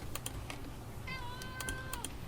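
A house cat gives one drawn-out, rising meow, close and clear, over soft keyboard clicks and faint room noise.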